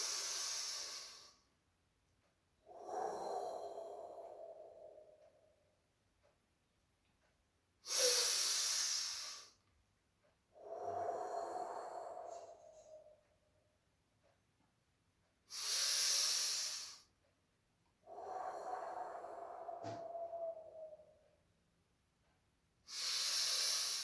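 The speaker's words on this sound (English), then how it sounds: "Breathing from deep within your belly. There has to be a sound while breathing" Deep belly breathing done as a guided exercise, drawing air in through the nose and pushing it out through the mouth, with three slow, audible cycles of close, hissing inhales and long, breathy exhales separated by brief pauses.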